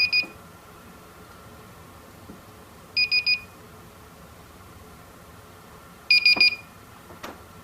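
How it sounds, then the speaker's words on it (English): Three bursts of a high electronic beeping alarm from a cheap freezer door alarm, each a rapid cluster of pulses, repeating every few seconds over a steady low hum. "And there's the alarm going off."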